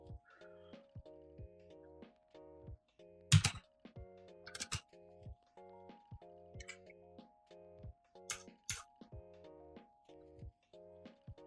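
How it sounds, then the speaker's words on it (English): Keystrokes on a large mechanical keyboard with blue switches, crisp clicky taps in irregular bursts and short runs, fairly close and moderately loud over a steady low electrical hum. "Very big keyboards with blue switches just to annoy everybody."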